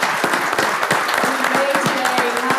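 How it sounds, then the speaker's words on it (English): Audience at a superyacht summit clapping for a guest, loud close claps with some cheering voices on top, sustained throughout. "we have to give a big round of applause to Lee Savage from Between Two Weddings"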